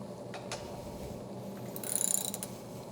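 A treadmill belt adjustment bolt given a half turn clockwise, with faint metallic clicks and a brief ratcheting whir close by in a quiet room.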